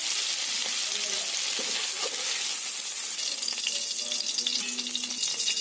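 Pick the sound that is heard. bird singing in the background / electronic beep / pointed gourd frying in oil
pointed gourd frying in oil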